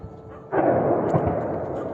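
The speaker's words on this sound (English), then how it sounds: "That was also an ammunition dump explosion." An ammunition dump explosion in Ukraine: after half a second of quiet a heavy broadband blast hits hard and rolls on as a sustained roar with crackling debris to the end.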